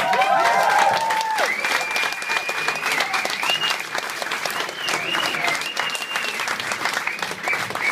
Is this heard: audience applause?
yes